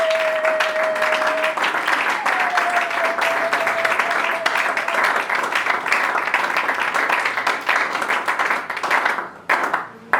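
A church congregation claps and cheers for the Lord in sustained, dense applause, loud and close, with a held tone running underneath before the clapping thins out near the end.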